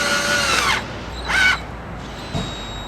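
A 7mm socket tool tightens the intake pipe clamp on a VE V6 SIDI cold air induction install, giving two short, close whirring bursts and a fainter third one.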